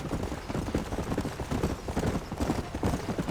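Horse hooves pounding in a steady gallop rhythm in the Western video game Red Dead Redemption, loud and close, continuous clip-clop with a low rumble underneath and no talk.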